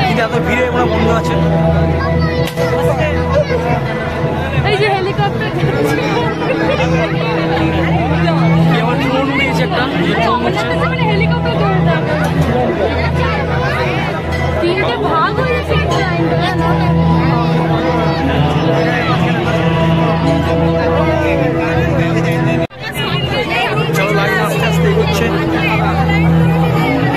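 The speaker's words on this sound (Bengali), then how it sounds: "আস্তে আস্তে এগোতে হবে, প্রচুর ভিড় আছে।" A dense crowd queues at a Durga puja pandal in Howrah, a loud, steady babble of many voices close around with nearby talk, continuing throughout with a brief dip near the end.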